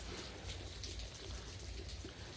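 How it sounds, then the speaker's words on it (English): Steady rain falls in a continuous hiss with scattered drops, soft and even throughout, no voices. "It's still raining."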